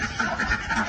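Ducks quack steadily in a small bird room where birds are being paired and moved into new cages, a dense, continuous chorus of nasal calls close by.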